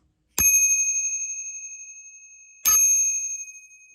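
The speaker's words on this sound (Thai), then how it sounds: "นี่กระดิ่งจากเมืองจีน" A bicycle bell from China rings twice, each bright metallic ding ringing out clearly and decaying slowly, close and alone in silence.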